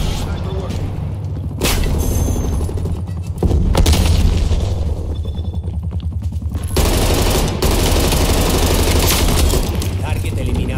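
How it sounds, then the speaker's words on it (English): Heavy incoming artillery and sustained gunfire fill a match of Call of Duty: Black Ops Cold War, with loud, dense booms and rattling bursts continuing throughout under game voice callouts. "Hostile artillery targeting active. Hostile artillery inbound."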